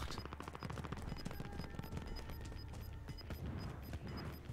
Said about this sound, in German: Da irgendwo sind Schüsse.